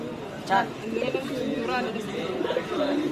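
Soft pigeon coos repeat under nearby chatter, low and murmuring, with a couple of brief sharper sounds.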